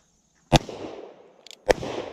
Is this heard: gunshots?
yes